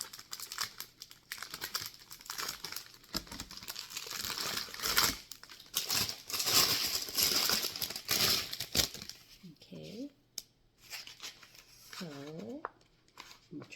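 Tin foil being crumpled and handled in a kitchen while making guava butter mochi, bursts of close crinkling and rustling that come and go, with someone talking toward the end.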